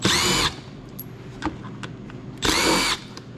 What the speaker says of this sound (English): I'm going to grab my impact and T25 Torx. We need to take these off, the air intakes.